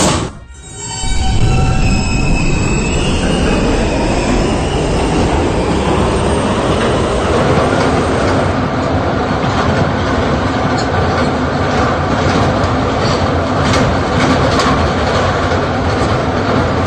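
An R160B D train on the New York subway runs steadily toward Union Turnpike via the E line, with a loud, continuous rumble of wheels and a screech at the start. Some squeal rides over the roar, and no one speaks.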